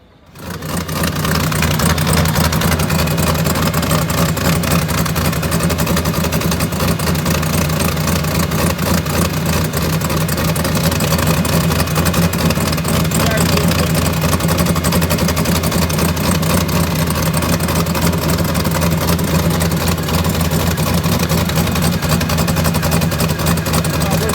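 Turbocharged LS-swapped car engine running steadily at idle, a loud continuous low rumble with no breaks, the overheating motor left running while a cable is disconnected.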